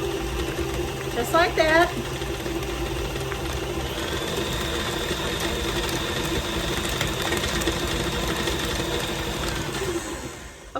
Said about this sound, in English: my 2 bricks of cream cheese are in my mixer and I've been just mixing and mixing.